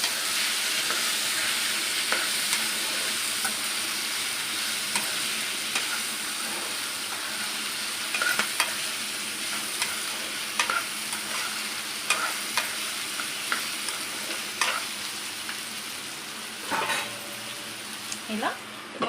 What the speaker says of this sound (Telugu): ఒక 5 మినిట్స్ బాగా ఫ్రై చేసుకొని దీంట్లో ఒక పావు స్పూన్ పసుపు వేసుకోవాలండి.